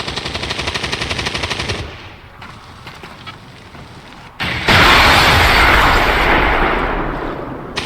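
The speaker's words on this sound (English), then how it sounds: "Whistling storm cannon." A storm cannon fires in XCOM 2: War of the Chosen as a rapid burst of gunfire, then a quieter stretch, then a loud roaring blast that slowly fades out.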